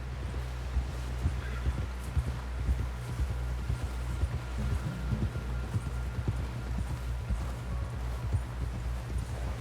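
A horse gallops in Red Dead Redemption 2, its rhythmic hoofbeats thudding steadily under a low rumbling background, with no talk over it.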